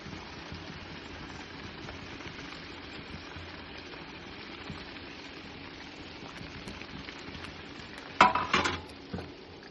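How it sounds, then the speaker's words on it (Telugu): Fish pieces simmer in tamarind broth in a pot, giving a steady soft bubbling hiss throughout, with a few louder clinks of utensils near the end and no speech. "ఇప్పుడు ఇలా మలుసు మసులుతున్న పులుసులోకి చేప ముక్కలు వేసుకోవాలి"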